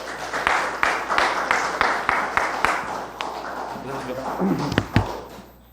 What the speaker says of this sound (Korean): 큰 박수로 드릴게요.